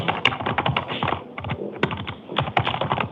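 Computer keyboard typing, reportedly by a cat, in a steady run of close, crisp key clicks with brief pauses, fairly loud and alone.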